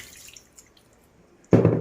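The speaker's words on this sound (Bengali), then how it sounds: "আমি এটার সাথে 1 কাপ পানি অ্যাড করলাম" A cup of water is poured into a pot of beef and potato curry, making a brief, close splash at the very end after near silence.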